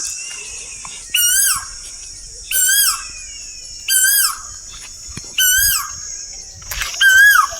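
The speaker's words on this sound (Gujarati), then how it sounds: "કોયલ બોલે છે" An Asian koel calls loudly and clearly, repeating a rising, whistled phrase about five times at regular intervals over a steady high insect drone.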